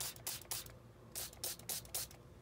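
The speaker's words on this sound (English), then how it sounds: "just some spritzing like that." Spray bottle spritzing coffee onto paper towels for dyeing, several short hissing bursts in quick succession with brief pauses between, close and moderately loud.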